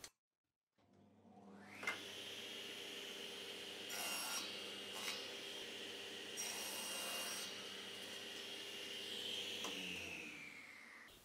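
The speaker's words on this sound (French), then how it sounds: "je vais nettoyer un peu mon bois là" A wood board being cleaned by hand, with a continuous close rubbing and rasping sound broken by a few brief stronger strokes, heard alone without talk.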